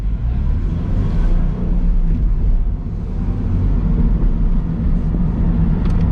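A 2022 Subaru BRZ with a six-speed manual pulls away onto a race track, its engine and road noise forming a loud, steady, dense rumble that fills the whole stretch, heard from inside the car with no talking.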